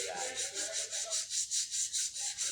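Rhythmic rubbing of sandpaper, steady back-and-forth strokes repeating about four times a second, close and fairly quiet, with no voices.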